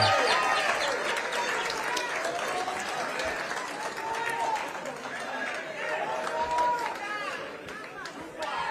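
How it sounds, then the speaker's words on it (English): A large crowd at a political rally in Kenya claps and cheers loudly and continuously, with shouting voices mixed into the sustained applause. "Another loud of applause for Baba wa kila mtu."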